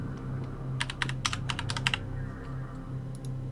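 Computer keyboard typing a login and password, a quick burst of about a dozen crisp keystrokes in the middle, with a short pair of taps near the end, close and clear over a quiet background hum.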